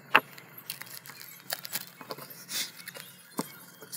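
Cardboard product box for a budget Xiaomi earphone set being cut open, with scattered sharp scraping, snapping and rustling bursts close by, uneven and irregular, no talking.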